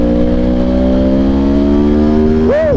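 ARC Powersport R1 motorcycle engine revving hard and close, a steady rising whine climbing toward 7000 rpm, then briefly surging and falling at the end.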